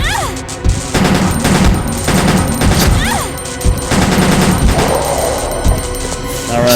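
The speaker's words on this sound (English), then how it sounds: "The handgun can fire 3 bullets. I'm wasting ammo" Handgun shots fired in Resident Evil Code Veronica X, loud repeated bangs spaced irregularly over a dense, busy game soundscape with sweeping effects and rumble, no voices.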